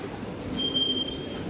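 A passenger train rolls steadily along the rails with a continuous loud rumble, and a thin metallic wheel squeal rises midway and holds.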